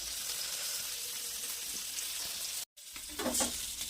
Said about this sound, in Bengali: তো মাছ ভাজা হয়ে গেছে আমাদের, লাল লাল করে ভেজে নিয়েছে।